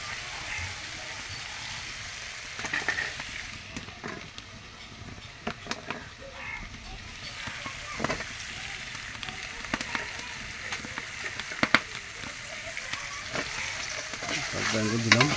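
Sour brinjal goes into fish masala frying in oil, and the pan sizzles steadily with scattered scraping stirs and clicks throughout, moderately loud and close, with faint voices in the background.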